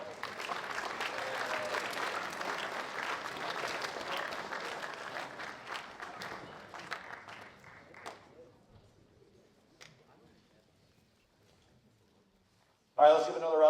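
A high school spring concert audience applauds loudly, the clapping gradually thinning and fading to near silence before a voice starts speaking at the end.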